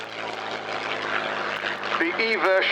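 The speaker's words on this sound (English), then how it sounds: "A really excellent fighter aircraft, one of the best ever." Messerschmitt Bf 109E Emil propeller fighter flying a display at the Cosford Airshow, a steady droning engine note throughout with a rising, wavering pitch near the end, heard under a commentator's continuous narration.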